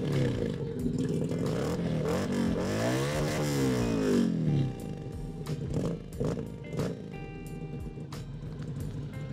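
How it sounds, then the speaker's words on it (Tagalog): An FKM Victorino 250i motorcycle engine is revved up and down while idling nearby, its pitch rising and falling in a sweeping surge before settling into a steady, rumbling idle with light mechanical clatter. "pakinggan natin kung gaano kaganda ang tunog ng Victorino 250"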